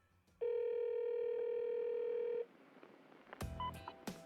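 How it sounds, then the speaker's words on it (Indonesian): A 1991 phone call recording opens with a steady dial tone lasting about two seconds, followed after a pause by a few quick telephone keypad dialing beeps over faint line hiss. "Berikut adalah telepon asli dari tetangga Jeff pada tahun 1991."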